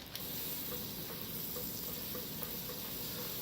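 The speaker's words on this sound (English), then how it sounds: "We're going to put the butter in and let it melt" Butter melts in a skillet with a soft, even sizzle, a faint and steady hiss heard close up with no one speaking.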